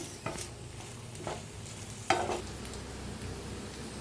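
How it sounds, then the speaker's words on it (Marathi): Masala okra (bhindi) roasting in a pan while being stirred, giving a faint steady sizzle punctuated by a few soft scrapes and one sharper clink of the spatula. "एक मिनिटभर मी असंच भाजून घेते"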